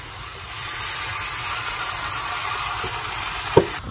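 Chicken sizzles in a large pot with a steady broadband hiss that starts suddenly, plus a sharp clink near the end.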